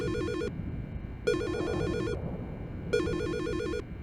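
An old-style telephone bell rings in the Silent Hill Shattered Memories video game, three loud jangling bursts with short gaps between them and no talk over it.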